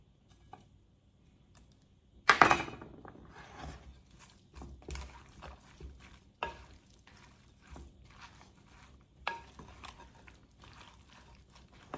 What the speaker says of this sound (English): I'm going to put my dried chili in here.